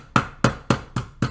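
A hammer pounds chicken breast fillets flat in five sharp, evenly spaced whacks, close and loud.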